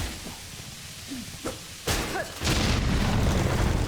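Video game explosions: several deep booms and crashes, scattered at first and then a heavier burst, with small sharp bangs and chirps in between at moderate loudness.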